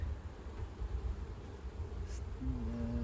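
Honeybees buzz steadily around a hive frame during a colony inspection, a low continuous hum close by, with a brief higher whine near the end.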